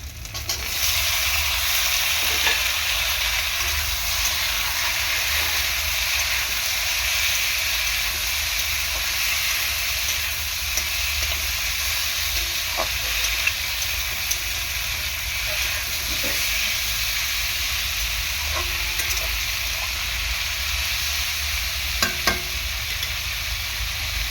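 Green tomato tipped into a hot frying pan, a steady loud hiss of frying oil with occasional small pops and clicks, continuous and close, no talking.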